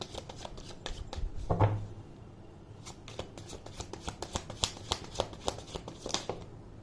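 Tarot cards shuffled and drawn from the deck, with a soft riffle followed by a steady series of crisp, close flicks and snaps that grows sharper toward the end, with no talking.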